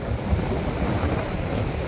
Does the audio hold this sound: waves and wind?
yes